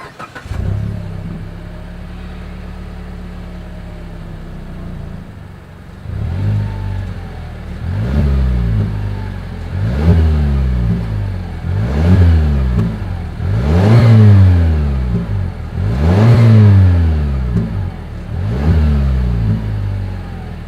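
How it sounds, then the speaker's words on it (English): A 2020 Mazda CX-5 SUV engine idles with a deep exhaust burble through dual exhaust, then revs repeatedly in rising and falling bursts, each rev climbing sharply before settling back down. "As always, here is that exhaust clip."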